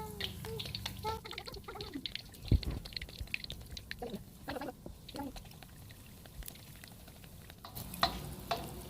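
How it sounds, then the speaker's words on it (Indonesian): Steamed-bun dough frying in hot oil in a pan and being basted with spooned oil: steady close sizzling and crackling with scattered pops and clinks, and no talking. "langsung dicemplungkan ke ini minyak panas. Ini disiram-siram seperti ini."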